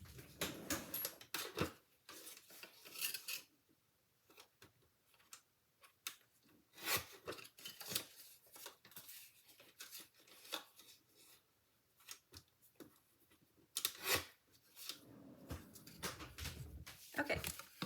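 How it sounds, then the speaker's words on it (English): Paper trimmer slicing card stock, heard as a series of brisk scraping and rasping strokes mixed with handling rustles, close and intermittent, with quiet talk in the background. "I guess I could use my paper trimmer."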